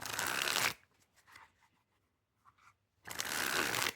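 Theory11 gold Lord of the Rings playing cards being shuffled close up: a loud riffling burst, a quiet pause with small card clicks, then a second full riffle.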